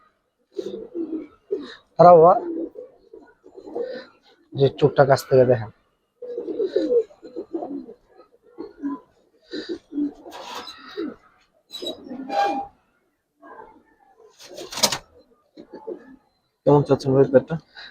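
Old-breed silver Giribaz pigeons coo softly and repeatedly beneath someone talking close by, with occasional sharp rustling bursts between the coos.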